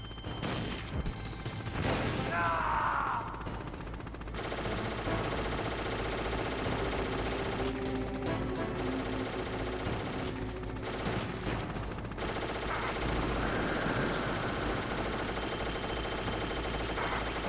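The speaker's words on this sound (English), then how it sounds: "Dude, stop shooting, please." Gunfire in the video game Metal Gear Solid, with dense bursts of rapid shots rattling almost continuously and only short lulls, loud and close, with no speech.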